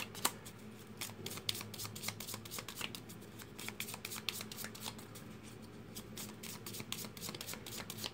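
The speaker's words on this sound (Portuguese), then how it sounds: "Só uma embaralhadinha" A deck of cigano and tarot cards is shuffled by hand during a card reading, giving dense, rapid riffling and flicking that runs continuously at close range with no voices.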